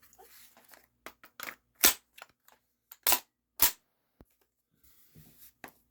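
A Panther Arms DPMS SBR BB rifle fires H&N Excite Smart Shot 7.4-grain lead BBs, with several sharp snapping shots spaced apart and faint handling clicks between them, close and crisp.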